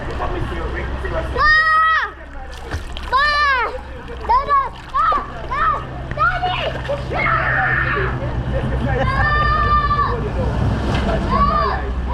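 A four-year-old child splashes and sloshes in the water of a mineral bath while learning to swim, with close, intermittent splashes under frequent high-pitched child chatter and adult voices.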